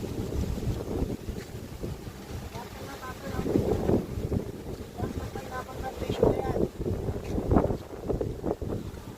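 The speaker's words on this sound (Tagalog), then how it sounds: "napakaganda ng hangin, napakalakas." Strong wind buffets the microphone in rumbling gusts at a pineapple plantation, rising and falling in intensity, with a voice talking faintly underneath.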